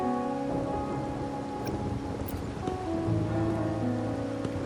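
Steady rain in Wuthering Waves, a dense continuous hiss of falling drops at an even level with a faint low rumble beneath and occasional soft clicks, with no speech.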